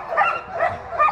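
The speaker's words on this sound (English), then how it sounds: "Those doggies are funny" Excited Alaskan sled dogs yip and bark in three quick, close bursts, eager to run, with no voices over them.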